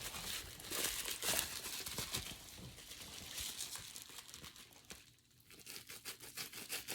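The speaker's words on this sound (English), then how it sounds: "painted my bubble wrap white" Painted bubble wrap, coated white, is pressed and handled for stamping onto colorful paper, giving steady close crinkling and crackling throughout, with a brief lull near the end before the rustling resumes.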